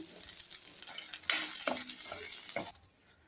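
Green turkey berries with salt sauté in a pan, hissing and sizzling under repeated stirring scrapes and a few utensil clinks, before the sound cuts off abruptly near the end.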